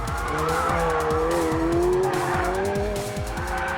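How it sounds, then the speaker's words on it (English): A McLaren 720S with variable drift control slides sideways, its tires squealing loudly and continuously over a rising, revving engine, all close and unbroken. "I know my setting on a McLaren's variable drift control. Unleash the beast!"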